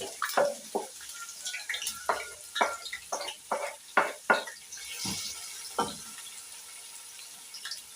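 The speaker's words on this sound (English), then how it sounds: "Our cooking oil is well heated. Let's now put our onions." Onions dropped into well-heated cooking oil for a beef biryani, giving a series of sharp crackling sizzle bursts, then stirring sounds and a steady low frying hiss, close by with no talk.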